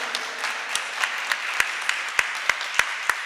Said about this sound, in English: All these claps for you.